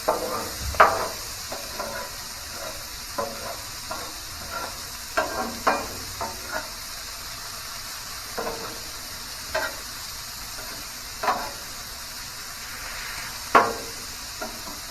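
Corn fries with bacon in a pan, a constant soft sizzle broken by intermittent scraping and tapping strokes of a spoon stirring, some sharper than others, all fairly close.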